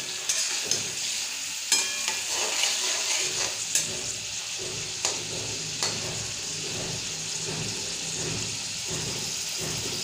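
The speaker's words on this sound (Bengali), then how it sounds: "তো চিংড়িটা মোটামুটি ভাজা হয়ে গেছে" Prawns sizzle and crackle steadily in a hot pan, with occasional scraping taps of a utensil stirring, close and continuous, no voices.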